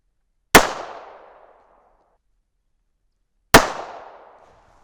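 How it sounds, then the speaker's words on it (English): Two sharp, loud gunshots from a .25 ACP handgun firing reloaded ammunition outdoors, each a single crack with a ringing decay, spaced about three seconds apart, with silence between and no talking. "All right, let's shoot 2 more."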